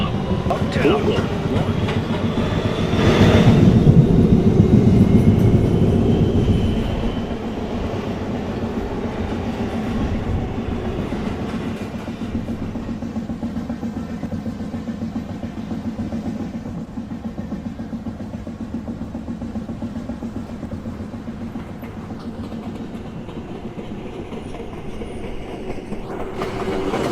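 An R262 subway train on a Manhattan-bound 1 line rolls along in the MTA Automated game, a continuous rumble with clickety-clack from the wheels, loudest early on, then settling to a steady drone with faint squeal near the end.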